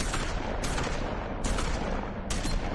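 Gunshots standing in for shotgun fire in The Wolf Among Us, three loud blasts about a second apart over a dense, roaring wash of noise, with no talking.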